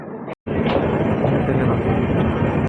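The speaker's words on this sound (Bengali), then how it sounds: "ওই 2 নম্বর প্ল্যাটফর্ম থেকে কাঞ্চনজঙ্ঘা এক্সপ্রেস বেরিয়ে যাচ্ছে শিয়ালদা টু শিলচর" The Kanchanjunga Express, running Sealdah to Silchar, pulls out of platform 2 at Barddhaman station with a loud, continuous rumble and rail noise after a brief silent gap.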